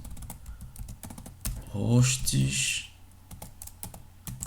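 Quick, light clicks of a computer keyboard come up close as someone types a Windows security policy name, with a few louder key bursts in the middle while someone talks over the typing.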